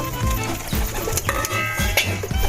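Pigeons coo in low, repeated throaty rolls while being fed by hand, the deep calls overlapping closely with faint background clatter and no talking.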